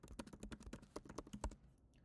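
Quick, even keystrokes on a computer keyboard, a rapid run of soft clicks that tapers off toward the end.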